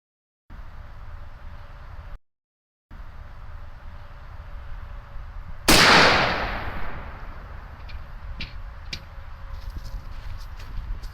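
One loud, close gunshot from a 5.56 rifle with a 7.5-inch barrel firing a Hornady TAP 55-grain round into a 2x4, its blast decaying over a couple of seconds amid light background noise and small clicks.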